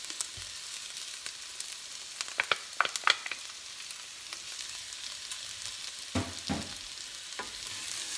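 Garlic dropped into a pan of half-cooked onions and peppers for garlic chili sizzles steadily at close range, with a few sharp crackles and scraping stirs breaking through the hiss.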